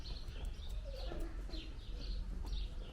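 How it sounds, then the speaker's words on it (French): Birds chirp and trill in short bursts, light and fairly distant, over a low steady outdoor rumble. "Les oiseaux, ils chantent."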